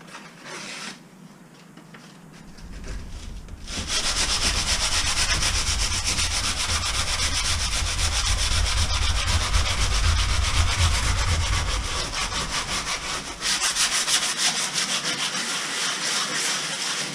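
Sandpaper of unknown grit is rubbed over a floor, giving a close, continuous rasping sound that starts quietly and then settles into steady, vigorous scraping for over ten seconds.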